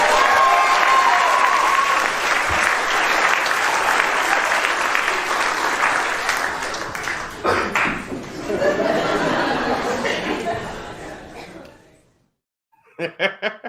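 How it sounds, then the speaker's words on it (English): A live studio audience at a comedy podcast taping breaks into loud, close applause mixed with laughter and chuckles. The clapping thins and fades toward the end, then a short spoken burst follows after a brief silence. "Let's give her a big round of applause."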